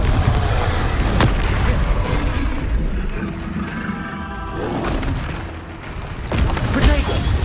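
Spell explosions from Confringo and other combat spells in Hogwarts Legacy: loud booming blasts and crashes repeat through a chaotic battle, with a voice calling out between impacts.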